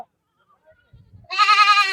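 Goat bleating at a livestock market where goats and kids are traded: a near silence, a few soft thumps, then a single loud, wavering bleat that lasts about the final second.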